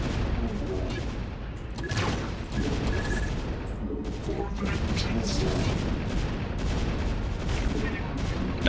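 Cannon and gunfire in a video game battle, a dense continuous barrage of booms and crackling shots with players talking throughout.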